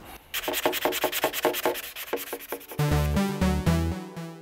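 Rhythmic rubbing strokes of 400-grit sandpaper by hand on plastic car mirror corners, steady back-and-forth scratching up close, followed by a brief tonal hum at the end.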